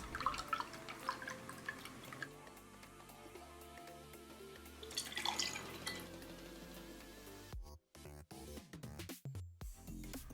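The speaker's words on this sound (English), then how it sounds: "You're going to take 2 ounces of the peach nectar and pour it over your ice into your glass." Peach nectar pours over ice into a glass for a mocktail: a continuous trickling, splashing pour with bright clinks of ice, nearby and unvoiced, tapering into short gurgles near the end.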